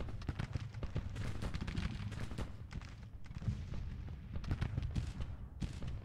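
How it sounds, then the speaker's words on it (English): Williams gun firing repeatedly during a Civil War battle in Grand Tactician, a rapid irregular stream of sharp reports mixed with distant cannon booms and battlefield din, with no talk. "The Williams gun is still blaring, even though it says low ammunition"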